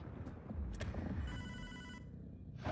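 A telephone rings inside the video game Hotline Miami 2, a steady electronic trill in the middle of the clip over a low game soundtrack, fairly prominent.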